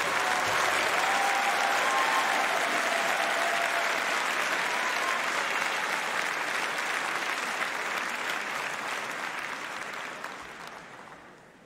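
A large audience at an engineering faculty graduation ceremony applauds the graduates with dense, sustained clapping that stays loud and even for about ten seconds, then tapers off at the end.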